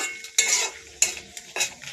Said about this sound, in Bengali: আমি গুঁতো জিরা দিয়ে একটু ভালো করে নেড়ে চেয়ে নিচ্ছি